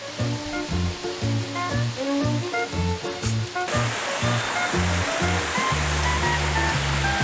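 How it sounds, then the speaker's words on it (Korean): A 30 m high waterfall in a Korean mountain valley: a steady, loud wash of falling water fills the whole stretch without pause, with music-like tones layered over it. "30m 높이 폭포에서 떨어지는 시원한 물줄기를 보기 위해서 둘레꾼들이 꼭꼭 들르는 곳이라죠."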